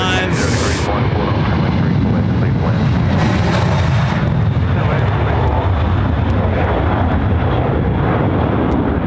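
A Qantas jet at Sydney Airport at night roars loudly and continuously, a heavy low rumble over several seconds, while a voice talks over it.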